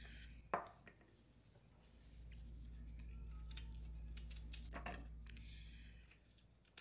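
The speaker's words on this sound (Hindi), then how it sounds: "इन तमाम चीज़ों को हम डालेंगे चॉपर में और बारीक चॉप कर लेंगे।" An electric food chopper blending garlic, green chilies, mint and coriander for seekh kebab, its motor whirring as a low steady hum for about four seconds between a few light clicks, fairly quiet.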